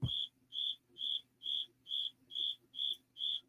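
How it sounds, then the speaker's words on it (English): A single cricket chirps steadily nearby at a live indoor stream, eight evenly spaced shrill pulses about every half second, with a faint low hum underneath and no talking. "That cricket's really getting to me, folks."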